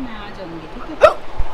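A girl hiccups once, a sharp, close, voiced catch in the middle of her own speech, with a softer second catch shortly after.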